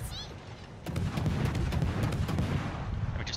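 Naval guns on the French cruiser Colbert firing in World of Warships, a dense continuous barrage of booming shots that rolls on with almost no gaps, loud and close, with a few faint higher tones near the start and end.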